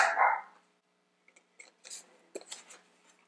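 A dog gives a single loud bark at the start, followed by faint scattered small sounds in a quiet room.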